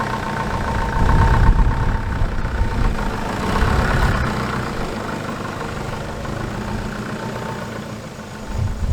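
A car engine drones steadily while driving along a remote road back toward Rocky, a low continuous rumble that swells briefly near the start and then holds at an even level with no voices.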